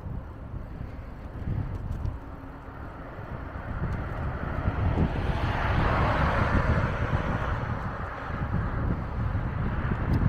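Cold wind blows steadily outdoors, buffeting the microphone as a loud, continuous rushing roar that swells and eases slightly over several seconds, with no one talking.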